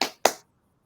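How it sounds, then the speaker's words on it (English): Two sharp hand claps about a quarter second apart, close and fairly loud, then silence. "Yeah, I'm clapping, man."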